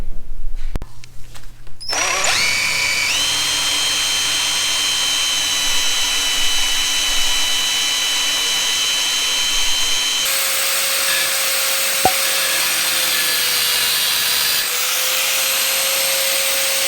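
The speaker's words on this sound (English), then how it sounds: "ready to cut and start to drill the holes and get it mounted up" A power drill whines steadily at high speed drilling holes on a 1973 Jeep CJ5, pitch shifting as it bites in, pausing briefly, then spinning up again loud and close.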